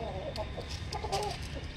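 An Aseel rooster gives a run of short, choppy clucks at close range over a steady low background murmur.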